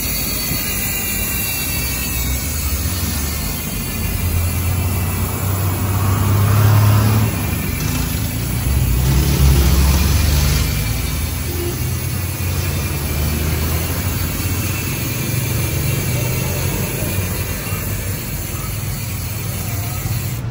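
A 2024 Sagmit Brooklyn project motorbike with a Paps Pro version 5 setup, engine running steadily during a sound check. A close, constant drone swells twice as the throttle opens slightly, with no talking.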